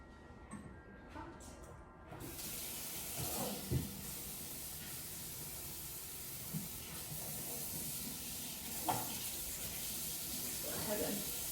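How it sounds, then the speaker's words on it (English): Cold tap water runs over boiled eggs in a kitchen sink, giving a continuous hissing spray close by. A brief muffled clatter at the start gives way to the steady flow, which has a few soft bumps along the way. "and then I just run cold water over them."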